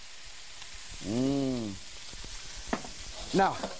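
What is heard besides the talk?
stir-frying mushrooms sizzling in a pan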